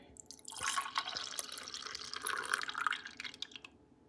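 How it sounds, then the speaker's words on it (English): Soy milk pours steadily with a soft splashing trickle for a few seconds, close and fairly quiet, then tapers off; no voices. "I'm gonna go ahead and pour this remaining in here."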